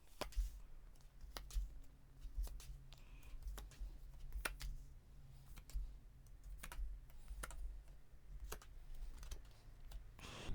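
Tarot cards are drawn and laid down one by one, giving sparse, sharp card clicks and soft slides spread irregularly over a quiet background.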